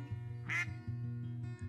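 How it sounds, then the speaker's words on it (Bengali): Cartoon duck giving a single short, bright quack over a faint low background hum, with no speech. "এটা কি তোমার হাঁস?"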